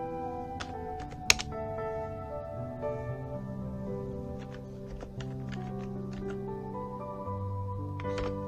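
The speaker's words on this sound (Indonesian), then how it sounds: "Kita ketikkan" A command typed on a computer keyboard while working in a Linux Ubuntu server terminal: sparse, light key taps over a steady background hum, nearby and fairly quiet.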